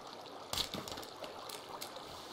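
A character drinks water in the survival game Sons of the Forest, giving a brief, faint trickle of liquid with a slightly sharper splash near the start.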